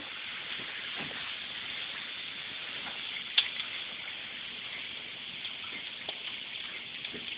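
A grape bath fizzy with Pop Rocks inside fizzes steadily in water, a soft continuous hiss with occasional faint pops and one brief sharper snap.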